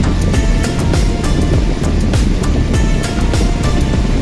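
Loud, continuous rush of moving water with churning, splashing texture and no voices, close by and steady throughout.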